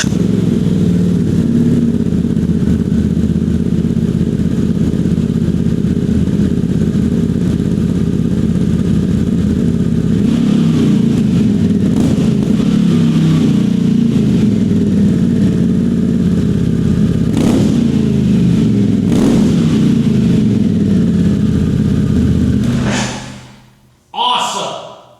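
Harley-Davidson Pan America CVO motorcycle with a titanium exhaust and resonator, engine idling and revving in a steady deep loud rumble that holds for over twenty seconds, then cuts out abruptly near the end with a brief blip.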